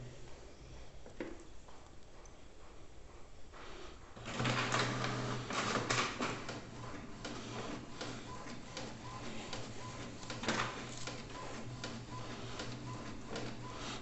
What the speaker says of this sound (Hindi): तो अब हम क्या करते हैं, एक कलर प्रिंट भी देते हैं।